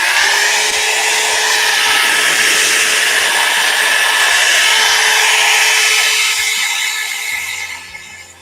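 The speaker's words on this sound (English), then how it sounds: "one more zap with this annoying heat gun" A heat gun blows hot air over a painted rock, a loud, steady close-up whoosh that holds for about seven seconds before tapering off.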